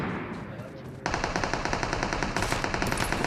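Rapid automatic gunfire from a video game bursts out after a brief quieter lead-in, a loud steady stream of shots continuing to the end.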